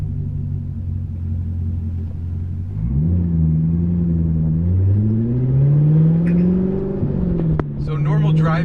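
A C7 Corvette fitted with an AWE Track Edition axleback and X-pipe exhaust rumbles deeply while running up through the gears, the engine note rising and dropping with each shift around 2,500 RPM, heard from inside the car with someone talking over it.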